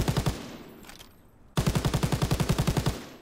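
A light machine gun in Call of Duty: WWII fires two loud, close bursts of rapid, evenly spaced shots, separated by a short fading pause, with no speech.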